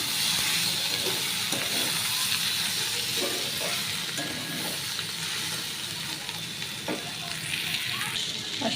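Potatoes sautéing in a pan with garlic, onion and chilli masala, a loud, steady hissing sizzle with occasional stirring scrapes, continuous and close throughout.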